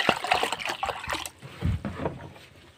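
Water pours into a cooking pot holding pork for sinigang, a gurgling, splashing rush that trails off into softer sloshing, close by with no voices.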